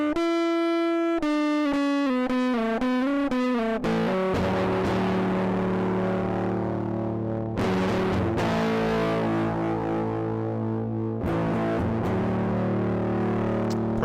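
An electric guitar played through a fuzz pedal with the octave effect switched off gives thick, sustained distorted notes and chords, loud and continuous with no talk.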